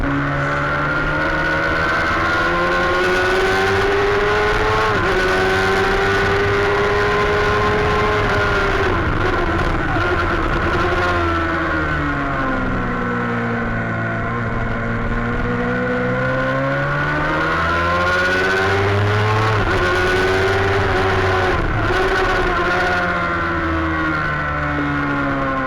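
Racing motorcycles at a Formula Femme road race, including a 750 machine, with sustained loud engine whine rising and falling as riders shift and sweep through corners, continuous throughout.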